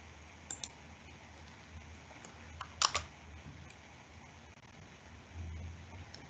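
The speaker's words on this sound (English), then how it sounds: "So maybe I'll just try that again by typing." Keystrokes on a computer keyboard while typing, a few sparse, faint clicks with a small burst near the middle, over a quiet, steady background hiss.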